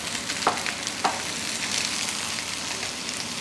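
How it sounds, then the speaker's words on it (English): Onions fry in olive oil with a steady, close sizzle, and two brief wooden-spoon clacks against the pan come early on. "I'll throw in these onions, let these cook for a bit."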